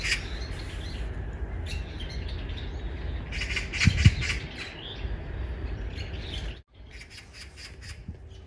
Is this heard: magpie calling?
yes